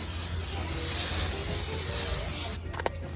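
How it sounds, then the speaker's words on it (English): Cooking spray misted onto hot grill grates before burgers go on, a steady close hiss running about two and a half seconds, then stopping, followed by a couple of faint clicks. "we just want to give these grates a nice light coat of cooking spray"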